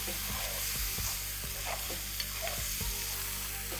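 Small boneless fish pieces frying in a pan for fish fried rice, a dense continuous sizzle with repeated scraping strokes of a spatula, close and steady, no talk.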